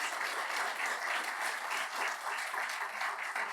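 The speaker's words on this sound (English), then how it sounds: "let's continue the applause for the people in white t-shirts" Steady applause from an audience, dense clapping that holds at an even level throughout without a break.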